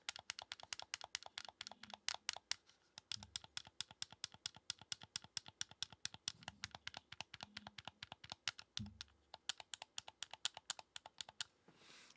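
The buttons of an inexpensive RGP01 game controller are pressed in rapid, loud, clicky bursts, with sharp close-up clacks that keep going in an uneven rhythm and are heard alone.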